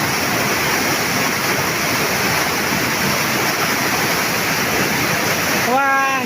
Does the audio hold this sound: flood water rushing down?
yes